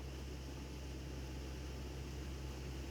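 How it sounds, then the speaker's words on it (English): Boat engine running on the River Tamar, a steady, faint droning hum with constant low tones and no change in rhythm, unaccompanied by voices. "Now I've got the engine running now"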